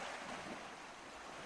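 Steady, unbroken wash of water rolling over Arctic shores, a dense broadband surf roar mixed with wind noise and no pauses or voices.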